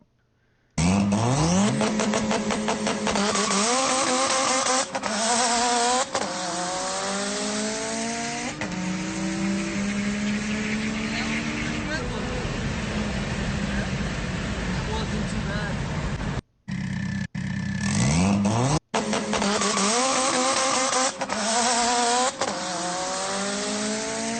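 A lightweight Subaru race car drives on a track. Its engine revs loudly in repeated rising sweeps through the gears with sharp upshifts and brief cuts near the end, heard close and continuous.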